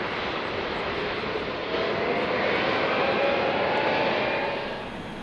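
Jet engines of B-52 bombers roar in a steady, broad rumble before takeoff during an elephant walk, loud and continuous with no voices, easing slightly near the end.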